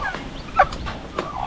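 A newly hatched chick gives a few faint, high peeping chirps near a brooding nest, soft and brief against a quiet background.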